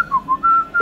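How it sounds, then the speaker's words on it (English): A person whistles a short tune, a few clear sustained notes sliding between pitches, close and alone with no talking. "I can whistle."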